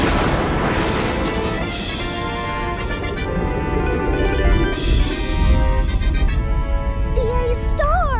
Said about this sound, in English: Our big, beautiful star just exploded into smithereens!